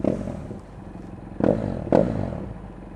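A Yamaha Tenere motorcycle engine idles, then revs twice in short sharp bursts about half a second apart, close by.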